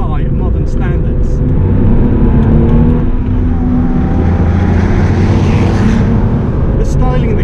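An air-cooled Porsche 911 from the 1960s pulls hard through first, second and third gear, its engine note loud and close with rising revs and gear shifts, heard from inside the car.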